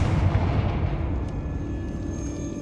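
A Confringo blasting curse booms in Hogwarts Legacy gameplay, a heavy, loud explosive burst with a deep rumbling tail that fades over a couple of seconds.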